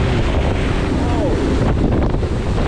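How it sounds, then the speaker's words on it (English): Heavy wind buffets the microphone with a loud, constant rumbling roar, with faint water and surf sounds mixed underneath, at a shallow tidal waterway in remote Australia. "It's so windy right now, so sorry if the audio is not the best"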